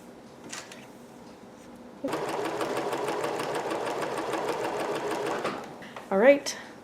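A sewing machine hems the bottom of a girl's nightgown, running in one steady rapid stitching burst of about three seconds after a quiet pause, with a short rustle and faint voice sounds around it.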